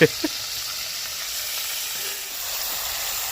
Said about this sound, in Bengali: দেখো আমার সমস্ত চিকেন ভাজা হয়ে গেছে